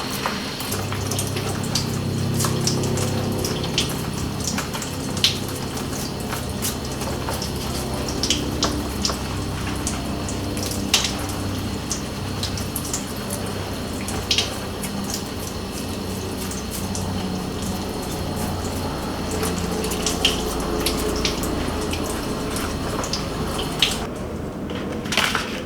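Tap water runs steadily over plant roots being rinsed, a continuous close splashing stream with a few small drips and clatters.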